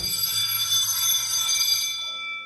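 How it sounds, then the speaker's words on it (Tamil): An automatic school bell timer rings a steady, bright electric alarm tone, loud and continuous for about two seconds before cutting off, with no talking. "12:27 அலாரம் அடிக்கும்."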